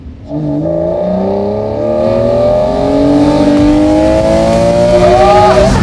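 A Lamborghini Murcielago's powerful V12 engine revs hard with a loud, rising exhaust howl, climbing steadily in pitch through the gears, close and continuous.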